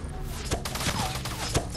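Gunfire in Fortnite at Tilted Towers, a quick burst of several sharp shots in irregular rhythm, fairly close, over a busy game background.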